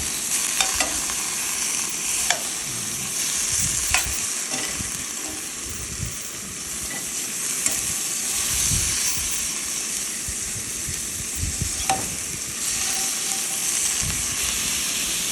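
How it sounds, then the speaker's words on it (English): Beef chunks for Guinness stew searing in a pan while camping, a steady close hiss and sizzle with occasional clicks and taps of turning the meat, no talking. "what you're looking for is just a good sear on all four sides"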